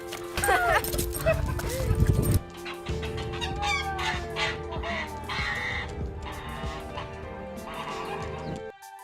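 A chicken clucks and squawks close by in short bursts, while people talk over it.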